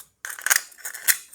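Scissors trim sharp edges off a homemade alcohol stove in a few quick, crisp snips, close up and alone in a quiet space.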